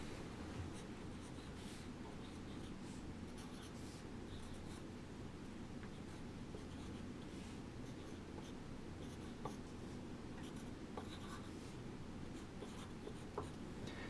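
Pencil scratching numbers onto paper while drawing a clock face, a soft continuous scribbling and rubbing, faint and close, with a low room hum underneath.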